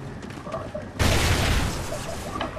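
A grenade from Call of Duty Ghosts detonates with a sudden, loud blast about one second in, followed by a broad roaring decay that lingers to the end, and faint game noise before it.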